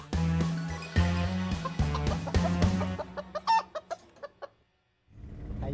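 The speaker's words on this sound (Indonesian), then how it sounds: "Tuh, ayam-ayam di belakang tuh stres dari lo nyanyi." Chickens cluck in a run of close, loud, rhythmic clucks that thin into quicker, softer clucks, then break off briefly before another burst of clucking starts.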